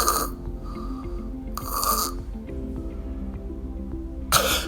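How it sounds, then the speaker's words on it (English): A child with obstructive sleep apnea snoring, with loud, harsh snorts separated by quiet pauses and a final gasping snort as the child wakes, close and alone. "Probably you would have seen your child having a snore, suddenly wake up with a gasp."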